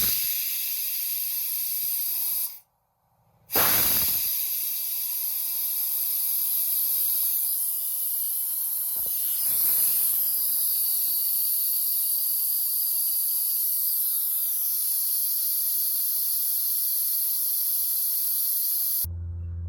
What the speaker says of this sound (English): This is a very noisy process, having the air compressor run, as well as basically air pressure just flying out of this gun.